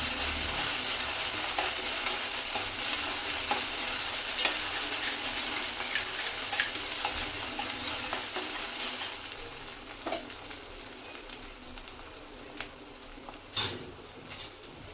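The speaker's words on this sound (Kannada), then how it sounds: "ಸ್ವಲ್ಪ ಶುಂಠಿ ಬೆಳ್ಳುಳ್ಳಿ ಇದು ಹಸಿ ಸ್ಮೆಲ್ ಹೋಗೋವರೆಗೂ ಫ್ರೈ ಮಾಡ್ಕೊಂಡ್ರೆ ಆಯಿತು" Ginger garlic paste fries in a pan for an egg dish, a steady close hiss of sizzling oil with occasional scraping stirs and light clicks, no voices, easing slightly quieter toward the end.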